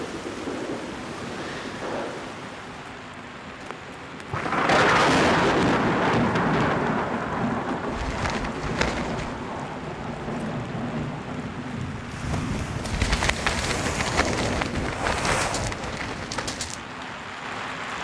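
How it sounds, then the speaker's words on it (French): A mountain thunderstorm, with a deep rumble of thunder breaking in and gusting wind and rain roaring steadily for the rest of the stretch, with no voices. "je n'ai jamais vu un orage pareil"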